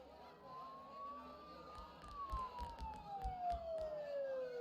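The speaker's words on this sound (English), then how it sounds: "Don't those sirens sound really close?" Sirens in the video game Persona 4 Golden, a wailing tone sweeping slowly up and then down, moderately distant and faint over a murmuring crowd-like background.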